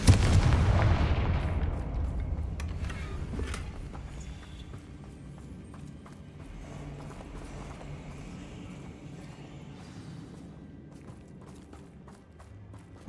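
Confringo explosive spell cast in Hogwarts Legacy, a single heavy blast at the start that fades into a long rumbling decay with scattered smaller crackles and thuds.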